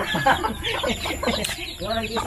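Chickens cluck and chirp in a busy farmyard, with a person talking over the birds throughout.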